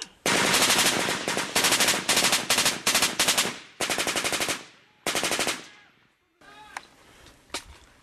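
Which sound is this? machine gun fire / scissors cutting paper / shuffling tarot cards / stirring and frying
machine gun fire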